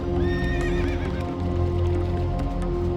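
A horse mount in World of Warcraft gameplay whinnies loudly, a wavering neigh over steady hoof clip-clops and a constant hum of game music and ambience.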